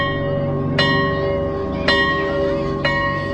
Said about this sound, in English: a few minutes later the bell went off